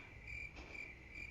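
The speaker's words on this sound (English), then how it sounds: "The crickets." Crickets chirp in a faint, steady, continuous trill, alone and distant-sounding with no other sounds.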